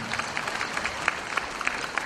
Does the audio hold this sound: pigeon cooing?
no